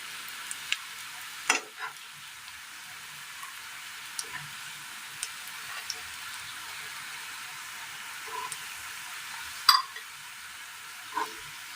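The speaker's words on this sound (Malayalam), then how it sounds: "ഇതുപോലെ ബാക്കിയെല്ലാം കൂടി ഒന്ന് വറുത്തെടുക്കാം" Brinjal (eggplant) slices frying in oil, a faint steady sizzle with a few soft clinks and stirring taps of a utensil against the pan, no talking.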